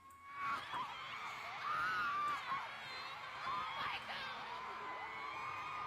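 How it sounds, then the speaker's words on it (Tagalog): A concert crowd cheering in a played clip, high screams and whoops rising and falling over about six seconds, fairly faint and distant, with a voice talking over part of it. "Grabe yung crowd"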